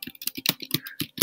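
Typing on a computer keyboard, a quick run of about a dozen close, crisp key clicks in an uneven rhythm, heard alone.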